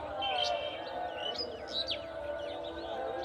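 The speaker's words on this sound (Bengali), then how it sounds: "পাখির কিচিমিচি" Myna birds chirping in a garden with flowers and a gourd patch: several quick, varied tweets and calls close by over a low background hum.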